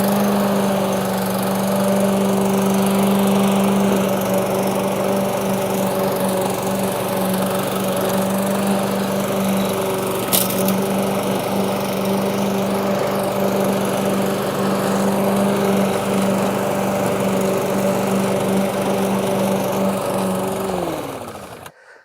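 A Webb lawn mower runs steadily on short grass for about twenty seconds, a loud close engine drone with constant tonal hum and one brief bump midway, before it winds down at the end.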